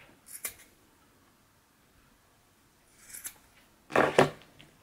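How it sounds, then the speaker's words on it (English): Scissors snipping through a folded sweater tube, two brief quiet cuts followed by a louder, closer double snip near the end, with no talking. "I folded the tube in half around the middle point and cut it in half"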